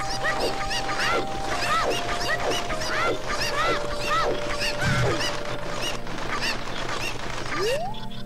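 A swarm of cuccos, the chickens of Zelda: Ocarina of Time, attacks with a dense, continuous stream of overlapping squawks and clucks, loud and close throughout.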